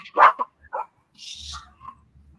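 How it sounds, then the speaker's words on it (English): Two dogs barking indoors in a few short, sharp yips and barks, close and fairly loud, followed by brief softer whimpering sounds. "sorry, my dogs. Can you hear them?"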